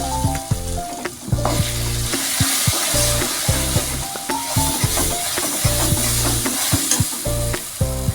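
Ground lentil paste hits hot oil in a pan while cooking dhokar dalna, sizzling loudly and steadily as a ladle scrapes and stirs with repeated clinks and knocks.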